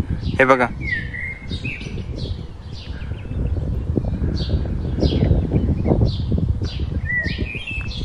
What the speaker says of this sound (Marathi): इथे फक्त पक्ष्यांचा आवाज येतोय.